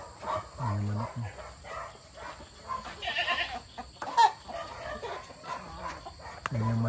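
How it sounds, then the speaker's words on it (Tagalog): A farm chicken clucks in short, soft bursts near the microphone, with a goat and a dog also heard faintly in the background and brief voices now and then. "Ang manok niya."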